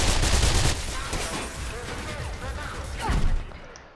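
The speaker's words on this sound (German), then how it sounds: "ich lass jetzt einfach mal die Server selbst kaputt schießen" Rapid bursts of gunfire in the game Mirror's Edge as server machines are shot apart, loud and dense at the start, then a steadier clatter with another sharp burst near the end, under busy game noise.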